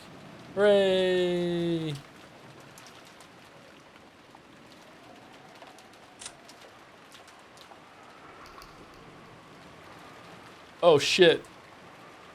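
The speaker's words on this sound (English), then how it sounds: "we get the soothing sound of rain for the break." Steady, faint rain hiss from the Umineko visual novel plays through a break, briefly overlapped by an excited shout at the start and a voice near the end.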